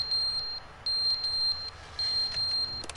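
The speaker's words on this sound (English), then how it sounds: "Is that a fire alarm?" A fire alarm in the video game The Stanley Parable sounds as repeated high electronic beeps in bursts of about half a second, fairly loud over a quiet background.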